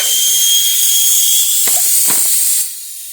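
Compressed air hissing steadily into a garden tractor tyre, loud and close, with a couple of short knocks near the end before the hiss drops away.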